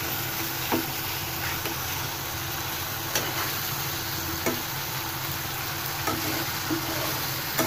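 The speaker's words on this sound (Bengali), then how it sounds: "এখন এই মশলাটাকে আমাদের একটু ভাজা ভাজা করতে হবে" Biryani masala frying in a pan hisses with a constant, fairly loud sizzle, punctuated every second or so by faint stirring clicks and scrapes.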